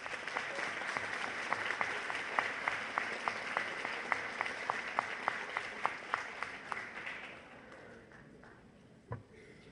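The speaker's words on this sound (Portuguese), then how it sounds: "eu queria uma salva de palmas aos professores." An audience at a dyslexia public-policy seminar in a municipal council chamber applauds teachers; many hands clap steadily, with a few sharp claps standing out, before the applause dies away near the end, leaving a single late clap.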